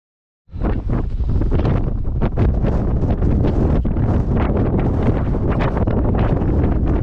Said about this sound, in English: So as you can hear, that's the wind getting up now.